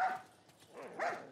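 A dog in The Last of Us gives two short whimpering barks, close and moderately loud, with a pause between them.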